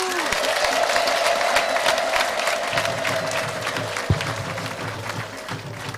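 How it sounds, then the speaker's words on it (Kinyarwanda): A church congregation at a jubilee celebration applauds steadily, with a sustained high ululating tone running through the clapping, and a low voice or hum entering later. "Ibari muzima tumuha amashyi n'impundu."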